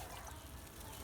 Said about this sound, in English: So I'm just going to pour it in this water right here.